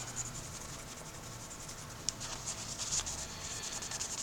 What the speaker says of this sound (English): I'm just going to take a little bit of ethanol on a piece of shop towel and clean the outside.